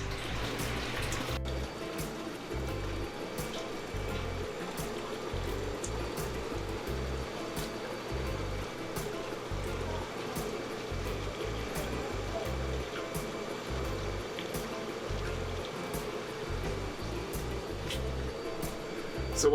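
Aquarium siphon pulling water through the sand bed of a tank, a constant close gurgling wash of water with faint bubbling and no pauses.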